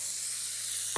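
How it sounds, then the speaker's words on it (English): Strips of beef flash-frying in a hot stir-fry pan with broccoli give off a loud, steady sizzling hiss that holds evenly for a second, ending in a soft thud. "that's a lovely sizzle"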